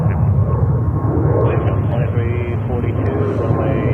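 A Delta jet roars while taking off from runway 22 Right at JFK in New York. The engine noise is a steady, loud broadband rumble that fills the whole stretch, with tower radio talk mixed over it.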